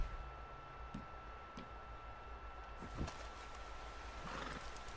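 A horse in the Red Dead Redemption 2 video game gives a whinny amid sparse, quiet hoof clops and outdoor game ambience, fairly faint overall.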